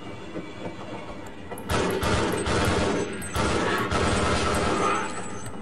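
A train rides along rails in Half-Life, a loud, steady rattling roar that swells in abruptly and rolls on with a rough, rhythmic clatter.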